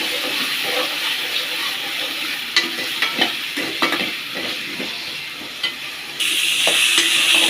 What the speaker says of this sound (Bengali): একটু লবণ, একটু হলুদ দিয়ে এগুলো সুন্দর করে ভেজে নিতে হবে।